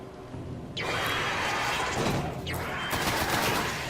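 Gunfire in the first-person shooter Destiny, loud rapid automatic shooting in two long bursts separated by a brief pause, close and dense, with no voices.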